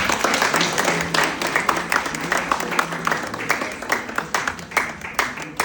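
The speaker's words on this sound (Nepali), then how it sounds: "ताली बजाउनुहोस्।" Audience at a Nepali church program in Nagoya clapping together, a dense, steady patter of many hands that carries on for several seconds, fairly close.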